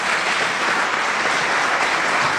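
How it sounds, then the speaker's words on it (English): Audience applause fills a church hall at a St. Petersburg mayoral debate, a dense, steady wash of clapping from many hands that holds evenly loud throughout, with no voices over it. "Let's give them a round of applause."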